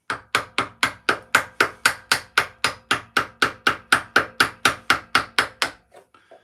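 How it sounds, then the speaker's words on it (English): A wooden mallet strikes a small woodcarving chisel about twenty times in a steady, even rhythm, each close sharp knock ringing briefly before the blows stop. "I shouldn't really use the mallet on these little chisels"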